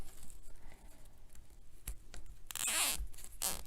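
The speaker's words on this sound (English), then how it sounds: "And secure it with a zip tie." Sharp ratcheting zip tie cinched tight around a crafted daisy wreath, a rough burst near the end followed by a second short pull, close and fairly loud with no talking.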